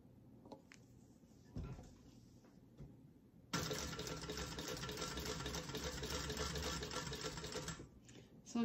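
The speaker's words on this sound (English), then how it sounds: "I'm actually gonna crank the handle, hand crank the handle to get it" A hand-cranked sewing machine stitching a Dooney & Bourke–style crossbody bag, starting after a few faint clicks and handling noises, then running as a steady, close mechanical chatter for several seconds before stopping.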